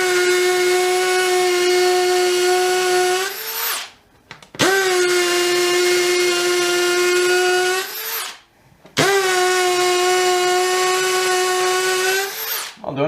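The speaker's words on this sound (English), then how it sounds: "why am I drilling holes in this wall?" A Bosch GSB 18V 60C Pro cordless drill bores holes into a damp wall. It gives three long, loud bursts of steady motor whine, each about four seconds long, with short pauses between them as the bit winds down.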